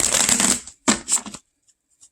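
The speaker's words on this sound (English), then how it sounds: "Let me get a good shuffle." Tarot cards being shuffled by hand: a dense riffling burst, a brief pause, then a second shorter flurry of card flicks, close and fairly loud, followed by near silence.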